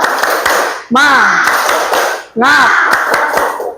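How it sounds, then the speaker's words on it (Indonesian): A classroom ice-breaking clap chant, tepuk semangat, led by a teacher: sharp rhythmic hand claps in quick patterned bursts, interleaved with loud group voices chanting between the clapping phrases. "Tepuk semangat."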